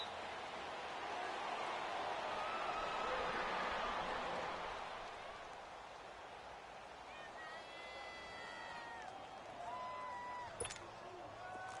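A stadium crowd roars in an American football video game, a broad, loud wash of noise that swells early and then eases off, with faint tonal game sounds and a sharp click near the end.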